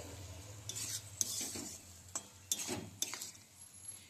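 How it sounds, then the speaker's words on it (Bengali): A spoon scrapes and stirs cauliflower stalk curry in a pan in a series of soft, uneven strokes with light metallic clinks, over a faint sizzle and low kitchen hum, and no one speaks. "অল্প একটু জল দিচ্ছি। খুব ভালো করে মিশিয়ে নিচ্ছি।"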